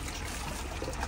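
Hot water flows from the outlet of a wood-fired water heater in a bathhouse as a steady, close, rushing gush with no pauses.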